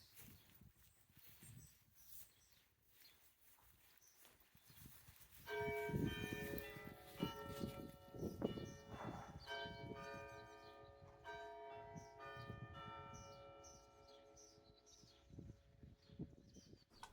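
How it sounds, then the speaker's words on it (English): An outdoor church bell rings in a steady series of resonant strikes that begin a few seconds in and carry on to the end. Gusting wind noise rumbles throughout, and faint bird chirps come through now and then. "The only way I could enable you to hear the bell was to keep the wind in, so sorry for that."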